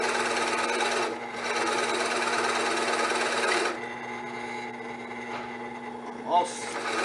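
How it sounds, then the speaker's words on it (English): Router with a carbide bit cutting wood for a ring dish, a steady high buzzing whine for several seconds that then drops to a quieter running tone with a brief bump near the end. "This carbide bit really cuts nuts."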